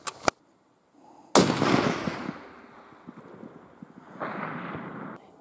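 A long-range rifle shot cracks loudly near the start, followed by a long rumbling echo that fades, then a second softer rolling swell of distant report toward the end; short sharp clicks precede it.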